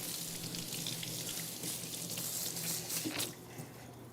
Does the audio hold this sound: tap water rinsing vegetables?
yes